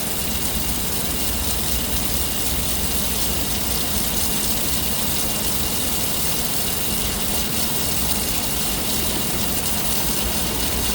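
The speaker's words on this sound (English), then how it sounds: "Trying to hold back as much water as I can." Water gushing through a backed-up factory floor drain, a loud steady broadband rush with a low rumbling undertone that holds unchanged throughout, no voices.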